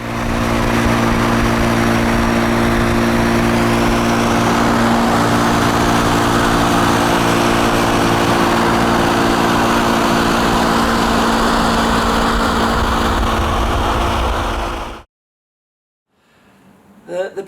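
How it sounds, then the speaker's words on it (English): A 1967 Austin Mini Moke's small engine runs steadily and loudly up close for about fifteen seconds, a constant buzzing drone, then cuts off abruptly into near silence with a few faint knocks. "this is my 1967 Austin Mini Moke."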